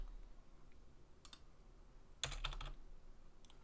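Typing on a computer keyboard: a few short, quiet bursts of key clicks with pauses between them, close but faint in a quiet room.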